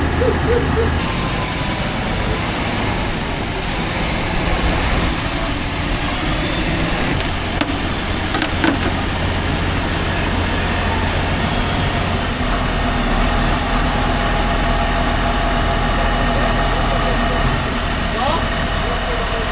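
A farm vehicle's engine runs with a steady, fairly loud drone as it drives up onto a trailer during field sowing work, with voices faintly present over the rumble.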